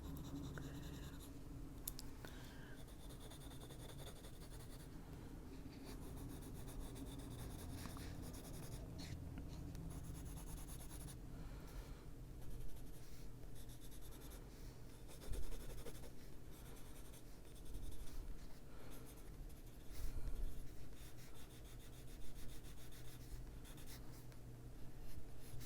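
Colored pencil strokes scratching across paper in an adult coloring book, close and quiet, with irregular bursts of scribbling and brief pauses between strokes.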